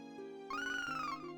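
A cat-like meow from a dragon in Final Fantasy Dimensions, one clear rising-and-falling mew over soft game music, close and distinct.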